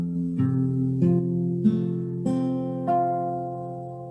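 Guitar strings plucked one after another in a chord exercise, about five separate notes each ringing on and stacking into a sustained chord, clear and close with no talking.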